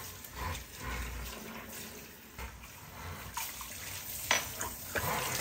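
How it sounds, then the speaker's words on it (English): Mustard greens are washed under a running tap before fermenting, a continuous close splash of water with handling and rinsing noises throughout, no one speaking. "You just want to wash it really well."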